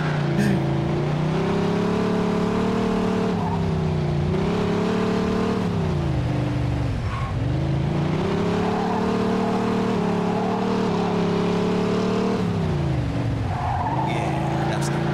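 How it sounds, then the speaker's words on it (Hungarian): A car in the video game Jimmy's Vendetta skids on a wet road, a long continuous tire squeal over a steady engine drone that dips and swells with each slide, with speech faintly underneath. "Vizes úton amúgy másabbul csúszik az autó."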